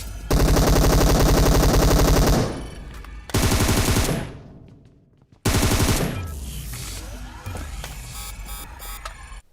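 Rapid automatic gunfire in PUBG Mobile, loud bursts of sustained fire separated by short pauses, followed by scattered shots and game noise trailing off.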